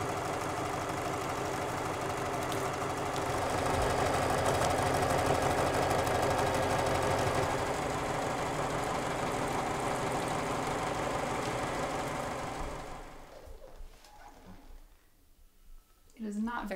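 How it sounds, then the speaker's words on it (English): A sewing machine hums steadily while stitching a fursuit, a continuous mechanical whir with a rapid needle rhythm that runs for about twelve seconds, then stops, leaving a quieter room with faint movement. "the hum of the sewing machine is one of the most relaxing noises."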